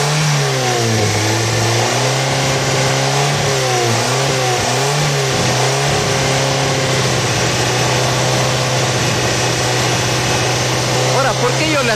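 An Opel Corsa Evolution 1.8 from 2004, with an unstable idle and heavy fuel consumption, revs loudly and repeatedly under acceleration, the engine rising and falling in pitch over a constant rough drone, with someone speaking over it.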